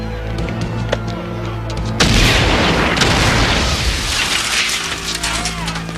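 A loud explosion erupts partway through an action film scene, a sudden broadband blast followed by sustained rumbling and debris noise, with shouted voices and ambient clatter before it.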